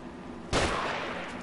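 A single sharp gunshot blast in The Evil Within video game, close and loud, with a ringing tail decaying over the next second.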